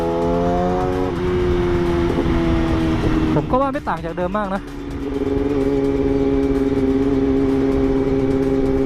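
A loud Yamaha YZF-R6 sport motorcycle with a new exhaust idles and blips its throttle, with sharp revving bursts in the middle, while someone talks over the steady exhaust rumble.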